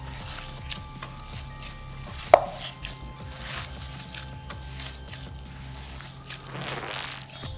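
Grated coconut being mixed by hand into kara kozhukattai dough: close, soft steady rustling and scraping in a bowl with one sharp knock partway through, no voices.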